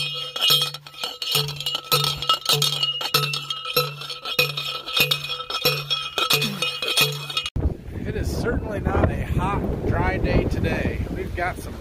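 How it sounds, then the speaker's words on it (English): Wind blows across an open farm field near corn on a mild day, buffeting the microphone with a constant rumble. A rhythmic clinking repeats through the first part, then the gusts grow rougher and fuller. "Got some wind"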